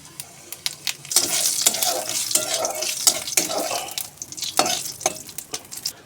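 Dried red chillies and cumin seeds tempering in a little hot oil, a close crackling sizzle with sharp pops and stirring scrapes that swell after a quiet start and then stay fairly loud.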